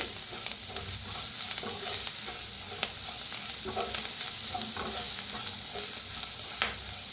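Turmeric roasts in hot oil in a pan for a kadhi vada dish, giving a steady close sizzle with scraping stirring strokes throughout and no one speaking.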